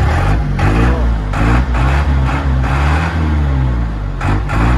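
A Chevrolet D10 diesel truck, an older vehicle with a Veraneio front end, Silverado suspension and F250 gearbox, revs up close with a loud, deep, rumbling roar that rises and falls steadily.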